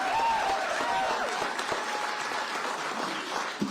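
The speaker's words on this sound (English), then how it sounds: "y'all give them a big round of applause right here" An election-night crowd applauds a gubernatorial candidate's wife and two children, close, steady clapping with a few cheers threaded through the din.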